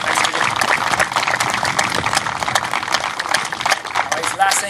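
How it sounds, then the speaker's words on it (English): A crowd gives a round of applause for the Birr Town football team after a CCFL final against Towerhill Rovers, dense clapping from a nearby gathering mixed with cheering and talk. "we'd just like a round of applause for Burr"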